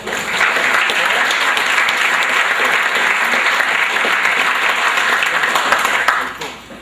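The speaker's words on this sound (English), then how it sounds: "let's have a huge round of applause for all of them." Loud, sustained applause from a large audience at a senior sports banquet, a dense even wash of clapping with faint crowd voices beneath, holding steady and then tapering off at the end.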